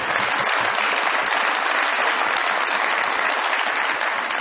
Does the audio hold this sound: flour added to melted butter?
no